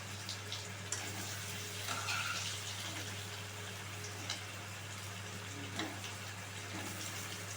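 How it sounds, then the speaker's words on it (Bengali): Parboiled potatoes go one by one into hot oil in a frying pan, giving a soft, steady sizzle with a few faint plops and clinks over a constant low kitchen hum. "এবার এই সেদ্ধ করা আলুগুলো আমি একে একে দিয়ে দিচ্ছি।"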